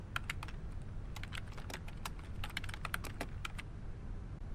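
Steady clatter of computer keyboard typing as a short journal note is entered into patient app software, with quick irregular keystrokes close by and no voices.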